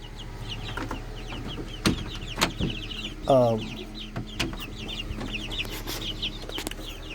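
Chickens cluck and murmur nearby, with one louder squawk partway through over a steady background hum.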